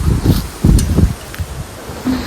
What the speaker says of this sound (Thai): ลมมันแรงมาก